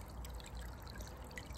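Water trickles steadily from a solar powered garden fountain birdbath, a continuous soft splashing dribble heard close up without any talking.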